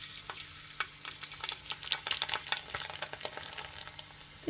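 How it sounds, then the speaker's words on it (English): A clove of garlic dropped into hot oil to test its heat gives a steady, close crackling sizzle with dense pops and spits throughout, no voices. "I'm just gonna test my oil to see how hot it is. So I'm just gonna put a garlic in there."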